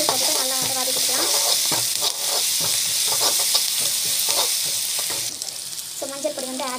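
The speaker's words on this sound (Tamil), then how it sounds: "முந்திரி ஆட் பண்ணி முந்திரி போட்டுட்டு நல்லா வந்து வதக்கிக்கலாம்." Cashews stirred and sautéed with ginger garlic paste in a pan for a homemade curry, a steady loud sizzle with scraping spoon strokes throughout, some brighter clinks near the start and end.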